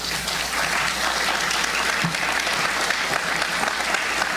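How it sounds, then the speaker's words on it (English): Audience at a provincial leadership discussion gives a steady, dense round of applause that stays loud and even throughout, with crowd noise mixed in and no clear speech. "hold your applause for the end"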